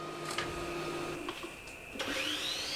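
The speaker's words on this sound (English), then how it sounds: "I put it through the sander just to finish it off." A power sander runs on wood for a jewelry box, a steady mechanical whine with brief rises in pitch and a harsher surge near the end.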